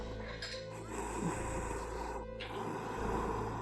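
A man moans and breathes heavily over a phone call in a Halloween video game, heard as faint, low groaning and snorting breaths over a steady game background hum.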